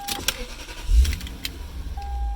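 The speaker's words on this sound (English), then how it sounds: "Start the car." A car engine cranks and catches with a short low burst, then settles into a quiet idle, preceded by a few faint clicks and a thin electronic tone.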